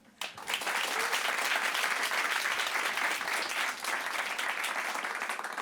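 Dense, sustained applause from a large audience at a magic show fills the whole stretch, steady and loud after a brief quiet start.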